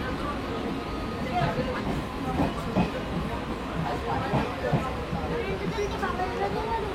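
The Asansol–Digha Express rumbles past a station platform in a steady, broad clatter of wheels on rail, with scattered knocks and a hiss, while voices murmur around it.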